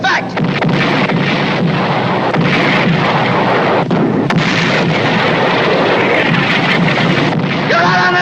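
Heavy naval gunfire from the battleship USS Nevada, loud booming blasts under a constant roar of wind and rumble, with sharp reports rising out of the din throughout.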